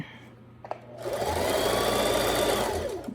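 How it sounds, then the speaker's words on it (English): A sewing machine stitches a seam on stretch fabric pants, running steadily for about two seconds after a brief pause and a small click, close and loud, then slowing to a stop. "Flip it upside down and line it back up with your stitch."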